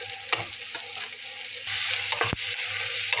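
Ground turmeric, cumin and chili powder sautéing in a pan, a close, steady sizzle that suddenly grows louder and hissier midway, with occasional spoon scrapes and knocks.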